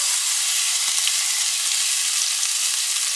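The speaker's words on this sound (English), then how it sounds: "Now I'll add another tablespoon or so of olive oil and throw in our julienne onions." Julienned half Spanish onion sizzling in olive oil over medium-high heat, a steady, loud, dense frying hiss throughout with a faint tap of a utensil.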